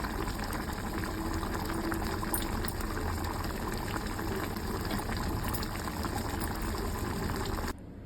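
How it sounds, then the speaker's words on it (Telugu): A pot of jilebi fish curry boils steadily, with a dense, continuous bubbling and simmering that stays loud and even before dropping off abruptly near the end. "చూసారుగా చేపలు ఎలా ఉడవుతున్నాయో."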